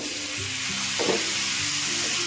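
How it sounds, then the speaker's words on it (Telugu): Sliced onions and potato pieces fry together in a hot pan for a curry, giving a continuous close sizzle with one brief louder burst midway and no talking. "ఇలా వేగేటప్పుడు మనకు చూడండి బాగా వేపుతా ఉన్నాయి ఉల్లిపాయలు బంగాళదుంపలు"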